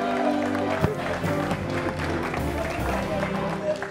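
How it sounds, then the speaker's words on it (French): Audience applause at a lively French-speaking show, a crowd clapping in a dense wash of hands mixed with chatter and voices, sustained for several seconds. "Applaudissez pour le citoyen lambda."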